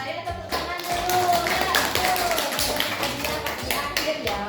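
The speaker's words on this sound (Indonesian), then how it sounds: "Saya tepuk tangan dulu." A teacher claps hands in a classroom, a run of sharp, close claps in a loose rhythm, with children's voices talking and chattering underneath.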